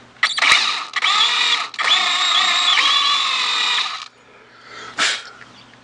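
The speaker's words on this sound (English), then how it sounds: "what I'm going to do is just drill it down" A power drill whines steadily as a number 32 bit bores into metal on a Rochester Quadrajet carburetor, pausing briefly, then a short final burst after a quiet gap.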